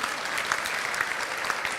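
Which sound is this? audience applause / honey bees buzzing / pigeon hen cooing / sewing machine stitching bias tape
audience applause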